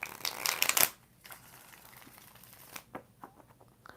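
Tarot cards shuffled by hand during a live reading, a loud, dense riffling burst up close for under a second, then quiet with a few soft card taps and rustles.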